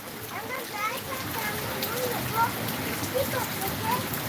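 Heavy rain pours down in a steady, broad hiss, close and continuous, with a voice talking over it at times.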